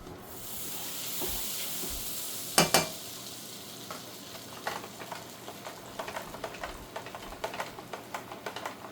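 Vegetables fry in butter in a pan with a loud, close sizzling hiss, punctuated by a sharp burst of clatter and then irregular stirring scrapes and crackles as the frying continues, with no voices.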